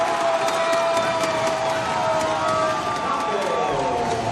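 Arena crowd at a Wichita State vs Temple women's college volleyball match screaming and cheering loudly and continuously, a dense sustained roar with shrill voices rising through it and faint talk underneath.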